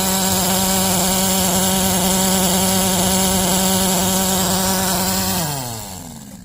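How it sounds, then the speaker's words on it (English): The air compressor on an Econoheat, Omni or Morrheat waste oil heater burner runs poorly with a loud, steady, close-up buzzing motor hum that holds for several seconds, then sags in pitch and winds down at the end. "So that compressor's not running right."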